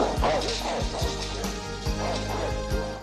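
Ferocious dogs bark in rapid, repeated woofs in an animated film, loud and close over a busy music score.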